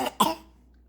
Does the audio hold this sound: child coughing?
yes